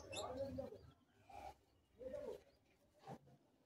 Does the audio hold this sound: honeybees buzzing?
no